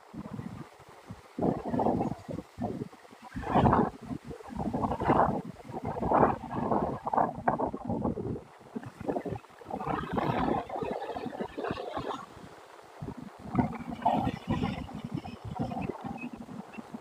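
Strong wind at Opal Beach, Florida, buffets the microphone in loud, rumbling gusts that surge and fade over the whole stretch, with no clear speech.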